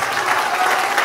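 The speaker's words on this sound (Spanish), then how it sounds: "Un aplauso fuerte para él." Strong applause rises from the audience at a 2022 arts academy closing gala in honor of their teacher, a brief, dense burst of clapping from many hands.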